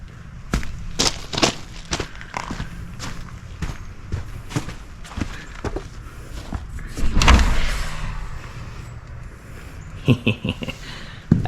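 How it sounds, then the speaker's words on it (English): A heavy pivot front door is handled and swung open, with a series of sharp knocks, clicks and footsteps followed by a longer sweeping whoosh of movement and more clunks afterward, fairly close. "It is just such a solid, heavy door."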